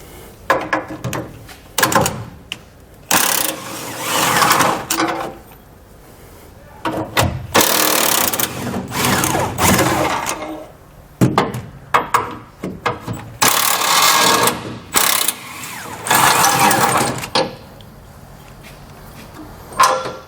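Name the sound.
impact wrench removing 21 mm bumper bolts on Ram 3500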